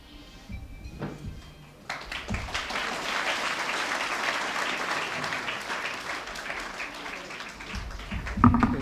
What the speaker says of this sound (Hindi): तालियां थोड़ी जोरदार